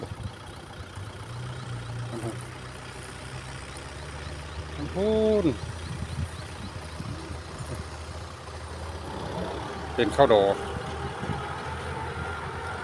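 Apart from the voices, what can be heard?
tractor engine running in rice field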